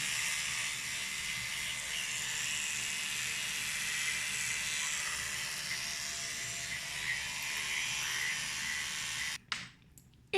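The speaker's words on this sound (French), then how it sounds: "J'ai une brosse à dents électrique en plus." An electric toothbrush hums with a steady, even buzz while someone brushes their teeth. It stays close and constant before cutting off with a few clicks and knocks at the end.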